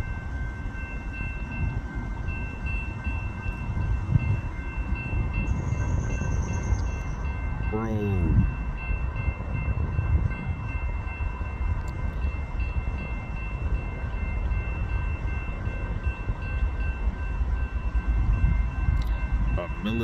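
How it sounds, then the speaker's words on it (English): Two Union Pacific locomotives lead a military train through Sugar Creek, a steady heavy rumble of passing rail cars with a horn blast partway through, heard from close by. "Totally unexpected, a military train."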